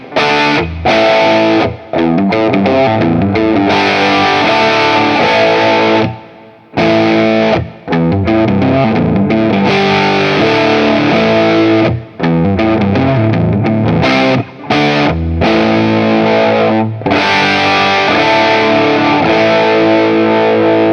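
A Firefly Flametop 335-style electric guitar is played through gain and distortion, giving loud sustained chords and riffs with a few brief pauses and no talking.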